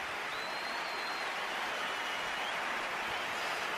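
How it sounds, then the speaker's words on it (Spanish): A stadium crowd gives Antoine Griezmann an ovation during Atlético Madrid against Inter Milan, a broad, steady roar of clapping and cheering heard from a distance with no commentary over it. "Y ovación a Antoine Griezmann."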